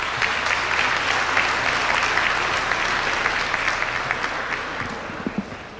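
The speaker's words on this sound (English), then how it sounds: "Thank you for the applause" Sustained applause from a large audience at a New York University College of Dentistry graduation ceremony, a dense steady wash of clapping that tapers slightly toward the end.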